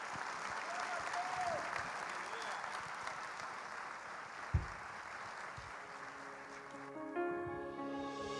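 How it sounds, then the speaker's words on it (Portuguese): A church congregation claps together in praise during a worship service, a steady wash of applause that runs throughout, with a brief sharp knock partway and sung music rising near the end. "Você pode louvar a esse Deus com as suas palmas."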